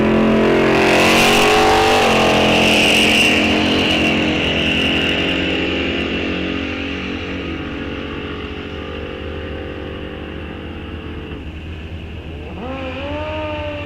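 A 1968 Chevelle launches down the drag strip at Rock Falls Raceway, a loud, close engine roar that gradually fades into the distance before another engine rises near the end.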